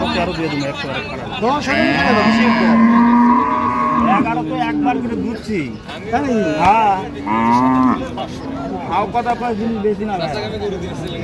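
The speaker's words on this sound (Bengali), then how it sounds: "গাভী বাছুর আমরা দেখছিলাম এখানে।" Cows and calves at a rural cattle market in Dinajpur, Bangladesh, give several long, loud moos close by, one after another, with market chatter and voices underneath.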